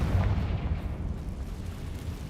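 A Confringo blasting spell going off in Hogwarts Legacy, a dense low rumbling burst that stays loud and booming through the whole moment, with no talking over it.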